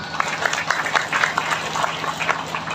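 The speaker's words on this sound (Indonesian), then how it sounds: "Tepuk tangan." A crowd at a religious lecture by an Islamic scholar claps in a continuous, moderately loud patter of many hands, steady across the whole stretch with no talk over it.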